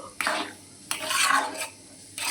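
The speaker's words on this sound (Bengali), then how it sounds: "আমি এবার হচ্ছে তোমার খিচুড়িটা ফোড়ন দেব" Khichuri made with Gobindobhog rice is stirred in a pot while spices are tempered, giving a few scraping, rustling strokes with soft metal clinks against the pan.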